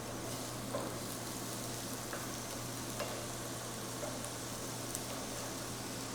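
Onions sautéing in a pan until tender and translucent, a faint steady sizzle and crackle with a low hum beneath, continuous and even, with no talking.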